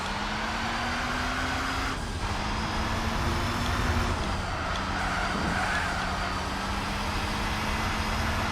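Racing car engines drone steadily in Gran Turismo 4 as a Renault Clio runs close alongside, a continuous loud motor hum with shifting pitch and no clear gaps.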